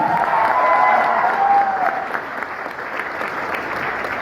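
Audience applause at a speech or rally, a dense wash of clapping from a crowd, loud at first and easing slightly, steady throughout with faint cheering and voices mixed in.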